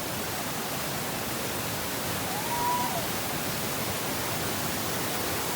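Amboli waterfall in Maharashtra pours heavily during the monsoon, making a dense, constant roar of falling water that fills the scene without a break.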